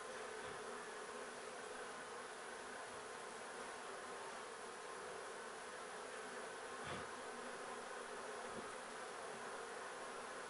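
A dense, steady buzzing of many bees swarming close by, continuous and unbroken throughout, with no voices.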